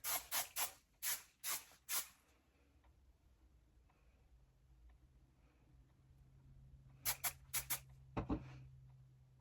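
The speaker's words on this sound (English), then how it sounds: "my go-to is the Aussie Instant Freeze Hairspray. And let's just go ahead and spray this in place." Aussie Instant Freeze hairspray is sprayed onto hair in short, sharp hissing bursts, a quick cluster of six at first, then a quiet pause and another cluster of spritzes near the end, close by.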